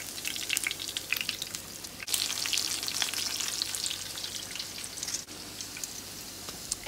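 Lamb chops fry hard in a pan, cooked well done until crispy, giving a steady dense crackling sizzle with a few brief dips, close and loud with no talking.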